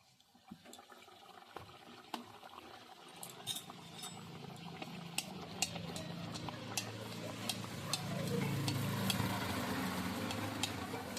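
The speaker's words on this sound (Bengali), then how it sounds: "এবার এইখান থেকে আমি বেলে রাখা লুচি তেলের মধ্যে ছেড়ে দিচ্ছি" Thick rolled jackfruit luchi, a vegetarian fried flatbread, dropped into hot oil over a low flame, building into a steady bubbling sizzle that grows louder toward the end, with scattered clinks of utensils and no talk.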